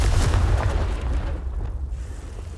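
Confringo spell explosion in the video game Hogwarts Legacy: a loud, heavy blast with a deep rumbling boom that opens sharply and fades into a lingering low tail.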